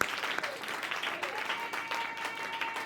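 A church congregation applauding, a dense spread of many hands clapping at moderate loudness for a few seconds, with voices mixed faintly underneath.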